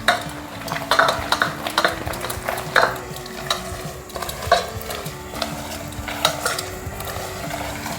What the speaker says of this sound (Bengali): ধীরে ধীরে জল মেশাতে থাকবেন